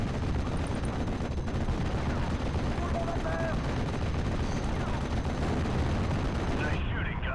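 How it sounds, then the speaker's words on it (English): Gunfire in the Normandy war game Steel Division Normandy crackles as rapid machine-gun bursts and scattered shots at mid-distance, steady and dense, with faint voice-like sounds mixed in. "Nice shooting, Gunner."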